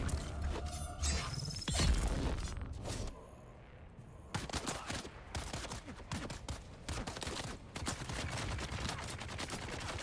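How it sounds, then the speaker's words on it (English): Chain gunners firing in Dune Awakening, dense rapid bursts of automatic gunfire that break off briefly, then resume in loud, sustained volleys. "The chain gunners are so difficult to deal with."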